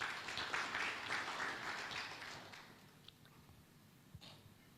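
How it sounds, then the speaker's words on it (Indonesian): A church congregation in Batam claps during a sermon, a brief soft burst of applause that thins out after a couple of seconds, leaving faint room noise and a few isolated taps. "Tepuk tangan dulu buat Tuhan"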